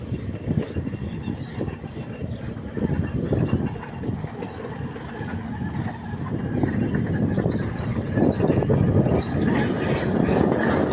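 River water released from a dam rushes past in a full, steady roar that grows slightly louder toward the end, loud and close with no voices.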